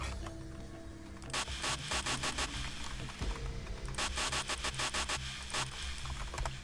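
In the video game Payday 2, a saw grinds through a target in repeated rhythmic strokes after a brief quieter lead-in, a harsh, loud rasping cut over steady mechanical noise, with no voices.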